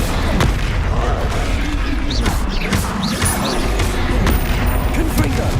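Fire spells cast in rapid alternation during combat in Hogwarts Legacy, a dense run of booming blasts and crackling bursts over constant rumbling game noise with a voice shouting spell names.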